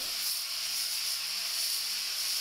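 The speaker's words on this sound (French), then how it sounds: "le grésillement que vous entendez, eh bien, c'est le caramel qui est en train de se faire avec la viande" Steady, broadband hiss of meat caramelizing as it sizzles in a hot pan, continuous and fairly loud with no talking.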